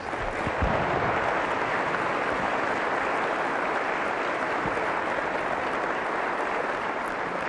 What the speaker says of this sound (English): now you can give them a great round of applause